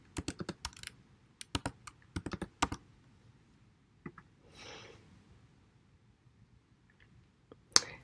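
Fingers tap out a password on a computer keyboard, a quick run of close, crisp key clicks in small clusters, then a pause, a faint rustle and a couple of scattered final taps in a quiet room.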